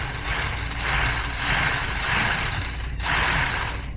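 A Kyosho Blizzard 2.0 RC snowcat drives its tracks with a steady, close mechanical whir that swells and dips in rhythm, with a brief break near the end and no voices.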